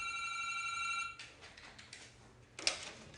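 An old-style telephone bell rings close by for about a second, a bright trilling ring, then stops as the handset is picked up, leaving faint handling noise and a short clatter.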